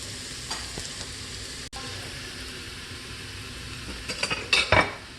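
Onions and tomatoes frying in an Instant Pot during Indian cooking, a soft continuous sizzle with occasional faint utensil clinks and stirring that grows louder and busier near the end.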